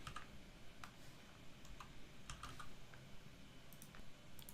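Typing on a computer keyboard while entering a name into an Excel form, heard as a quick, irregular run of light, close key clicks over a low steady room hum.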